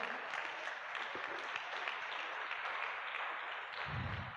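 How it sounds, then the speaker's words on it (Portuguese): A congregation at an evening church teaching service claps vigorously and continuously, a thick, even roar of hands lasting several seconds, slightly distant, with low voices rising near the end. "Você pode aplaudir Jesus bem forte."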